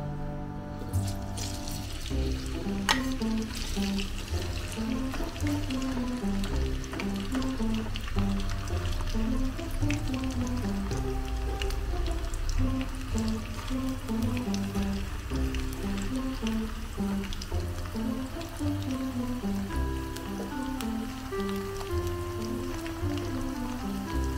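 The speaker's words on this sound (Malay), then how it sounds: "Bolehlah kita masukkan kita punya kentang. Kita goreng dululah." Potatoes fry in hot oil with a steady, low sizzling hiss that runs throughout, partly masked by repetitive background music.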